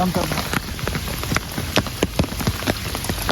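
Rain patters steadily on a hard surface nearby, with louder individual drops tapping irregularly throughout.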